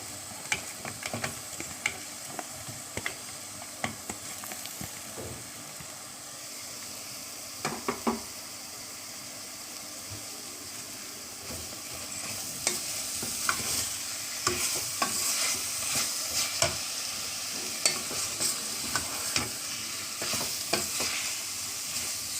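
Chopped onions and green chillies sauté in a pan, with a constant low sizzle under repeated spoon scrapes and taps, which grow busier and louder in the second half.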